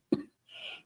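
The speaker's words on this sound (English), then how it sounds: "This cough got to go, y'all." A single short, sharp cough up close from a woman, followed after a pause by a softer breathy hiss of air.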